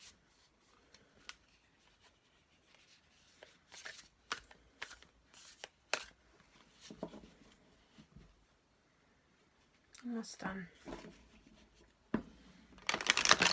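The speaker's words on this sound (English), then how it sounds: "this one doesn't have to be shuffled as much as maybe some of the others" A deck of cards being shuffled at close range: scattered crisp riffles and rubs, with a denser burst of riffling near the end and a short spoken remark in between.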